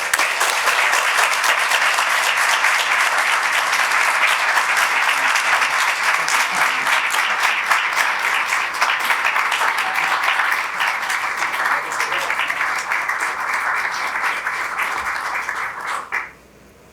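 Sustained, loud audience applause honoring two distinguished faculty award recipients, a dense wash of many hands clapping steadily for about sixteen seconds before stopping abruptly.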